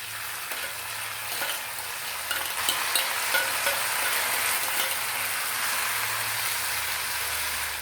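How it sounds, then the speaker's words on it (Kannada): Grated radish, about a cup, frying in oil for Kannada-style radish palya: a steady broadband sizzle with occasional stirring scrapes and clicks, close and fairly loud, no voices. "ಎಣ್ಣೆಯಲ್ಲಿ ಈ ಮೂಲಂಗಿ ಸ್ವಲ್ಪ ಹೊತ್ತು ಫ್ರೈ ಮಾಡ್ತಾ ಬನ್ನಿ"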